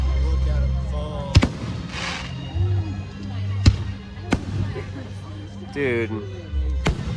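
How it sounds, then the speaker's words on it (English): Fireworks at a town show in Arthur, Illinois burst in sharp, loud booms spaced a couple of seconds apart over a steady low rumble, with a crowd chattering nearby and people talking close by. "most lit fireworks show ever."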